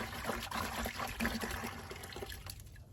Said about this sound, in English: I add about a gallon of water into the bucket